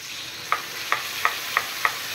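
Potatoes and drumstick pieces fry in a pan with ginger and cumin paste and green and ripe chillies. A soft, steady sizzle runs underneath while a spatula strikes the pan five times at a roughly even rhythm.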